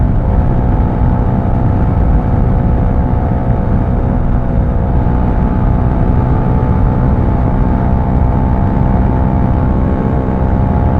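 A motorcycle engine drones steadily and loudly throughout a ride along the Mindoro loop, a constant close whirring roar with wind noise and no pause.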